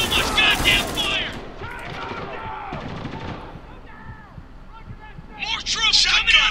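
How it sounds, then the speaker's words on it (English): Sustained gunfire from a Spec Ops: The Line firefight, dense bursts of shots loudest at the start and again near the end, with shouted voices mixed into the battle noise. "I'm pinned down! There's too much goddamn fire!"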